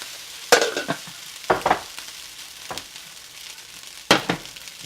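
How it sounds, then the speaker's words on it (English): Rice hitting a hot pan for chicken fried rice, with several sharp bursts of sizzle and spatula scraping spaced a second or so apart over a quiet background hiss, close and clear. "So we're going to go ahead and heat this pan up, and then we will add some of the rice."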